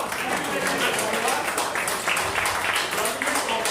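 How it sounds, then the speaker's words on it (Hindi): An audience at an insurance agents' gathering claps in sustained, dense applause that fills the whole moment at steady loudness. "एक बार जोरदार तालियां।"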